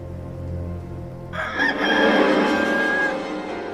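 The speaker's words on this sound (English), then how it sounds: "a rooster crowed." A rooster crows once, a loud drawn-out call that begins partway through and rises over quiet background noise.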